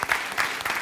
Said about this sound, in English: give a round of applause to our panelists, please, when they are coming on the stage